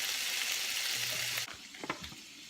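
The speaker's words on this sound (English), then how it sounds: "The bacon is cooking." Bacon frying in a pan gives a dense, loud hiss of sizzling fat that cuts off abruptly, followed by faint clinks and scrapes of stirring close by.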